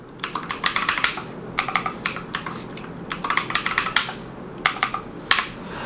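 Rapid bursts of typing on a computer keyboard as a password is entered, with quick, close key clicks in several clusters separated by short pauses, and no voices.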